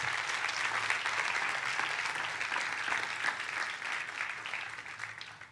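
A church congregation claps loudly and steadily for several seconds in praise of God, a dense wash of applause filling the room with no voice on top.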